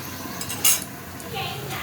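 Fish curry with pumpkin and puti fish being stirred in a pot and covered, one metallic clink of utensil or lid over a faint sizzle, close and brief.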